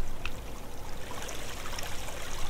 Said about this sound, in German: wo Wasser reinfließt